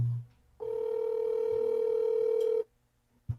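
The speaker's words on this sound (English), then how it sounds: "Can you hear the ringing?" A steady telephone tone heard over a call, one sustained loud tone lasting about two seconds before cutting off, with quiet line noise before and after.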